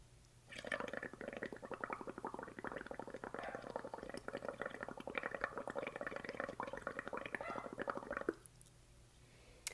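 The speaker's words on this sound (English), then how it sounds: "I'm going to take my straw and I'm going to blow into one end of it and make some nice big bubbles" Bubbles blown through a straw into a cup of watercolour paint water: steady close gurgling and bubbling lasting several seconds, then stopping abruptly.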